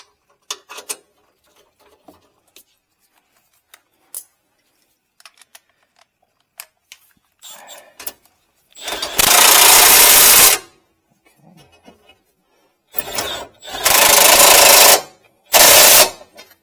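Bolts driven into the bumper of a 2015-2020 Ford F-250 with a power tool, several loud, sustained whirring bursts of a few seconds each after scattered light taps and clicks, close and alone.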